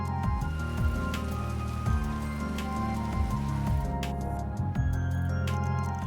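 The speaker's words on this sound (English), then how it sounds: "Looks like it's raining out" Steady rain falls in the video game Trails Through Daybreak, a continuous patter alone under looping game music with low melodic notes.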